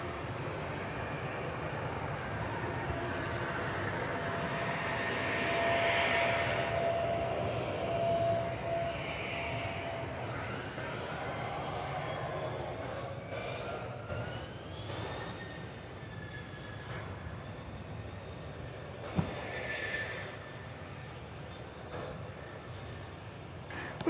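An American Airlines jet departs a runway at Dallas/Fort Worth bound for San Juan, Puerto Rico, giving a steady, moderately distant broadband roar with a faint whine that holds for the whole stretch, with no voices.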